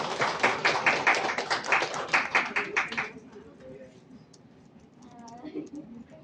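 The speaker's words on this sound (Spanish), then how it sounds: "Un aplauso para ellas, por favor." Audience applause for two schoolgirls named as reading ambassadors, a dense burst of clapping lasting about three seconds before fading into quiet room murmur and a few voices.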